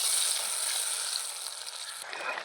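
Tomato paste for a Kashmiri-style fish and tomato dish fries in a pan with a close, steady, crackling sizzle that eases slightly toward the end, and no one speaks.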